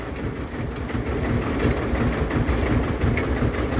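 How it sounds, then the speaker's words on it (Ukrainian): A rotary tiller on a mini tractor runs with a dense, steady rattling churn and a heavy low rumble, loud and constant throughout. "Щоб ви дивилися, побачили, як працює фреза."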